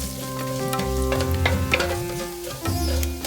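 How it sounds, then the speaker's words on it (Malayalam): Chopped shallots and curry leaves fry in a pan for okra vendakka curry, a steady close sizzle with scraping stir sounds and brief crackles throughout, no talking. "1 ടേബിൾ സ്പൂൺ ചെറിയ ഉള്ളി അരിഞ്ഞത്, 2 തണ്ട് കറിവേപ്പില മുറിച്ചിട്ട് നന്നായിട്ട് ഇത് മൂപ്പിക്കണം."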